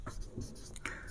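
Chalk or marker scratching across a classroom board in short strokes, near and steady, with soft breathy sounds mixed in.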